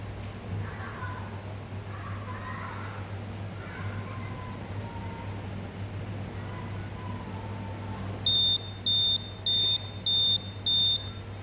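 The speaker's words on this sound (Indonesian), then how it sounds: "berbunyi seperti tadi yang menandakan alarm dari buzzernya aktif" An ESP32-based smart oven timer's buzzer sounds five short, loud beeps in a steady rhythm once the baking time ends, following a stretch of low hum and quiet background noise.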